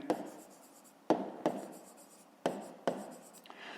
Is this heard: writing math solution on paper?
yes